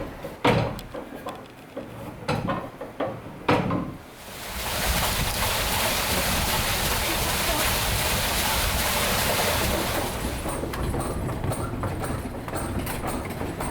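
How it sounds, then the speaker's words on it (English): A water wheel at a grain mill in Loughrea, Co. Galway starts turning after a few knocking and clattering sounds, then gives a steady broad rushing and churning wash of water and machinery that continues to the end. "I am letting down the stone nut to connect with the water wheel, which will turn"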